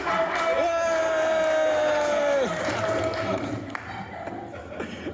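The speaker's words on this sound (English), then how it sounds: "Everyone give a cheer for Hex." A crowd cheers and whoops at the Gangsta Granny ride opening day at Alton Towers, mixed with voices and a sliding tonal whistle, then fades to quieter chatter.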